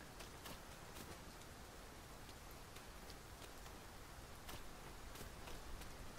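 Steady rainfall in the Dragon's Dogma 2 video game, an even hiss of drops with scattered sharper ticks, constant and moderately loud throughout with no talking.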